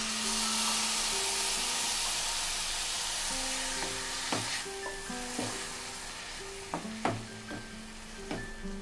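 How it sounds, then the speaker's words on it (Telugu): Tamarind juice hits a hot pan of coconut curry, setting off a loud, broad sizzle that slowly settles, with a few sharp clinks of a utensil stirring near the end. "దీనిలో మనం జ్యూస్ తీసి పెట్టుకున్న చింతపండు పులుసు పోసుకోవాలి."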